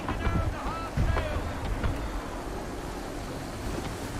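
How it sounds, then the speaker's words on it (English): Strong wind and crashing waves at sea in Assassin's Creed 3, a steady roaring wash with surges of surf near the start, continuous and fairly loud throughout. "That wind will push us hard up those rocks."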